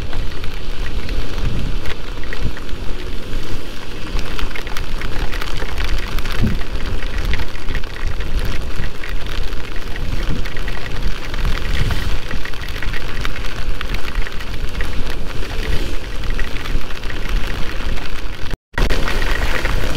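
Heavy rain pours during a ride on a Polytron Fox electric motorcycle, a dense, loud, continuous roar of rain and wind with no breaks apart from one brief dropout.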